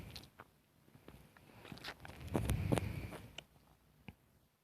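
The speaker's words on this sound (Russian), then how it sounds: "Опять я его слышу. Боже, как меня его шаги напрягают." Footsteps of a character in the game Death Park 2: a run of irregular, soft thuds that swells louder and busier toward the middle, then thins to a few scattered steps, with no talking.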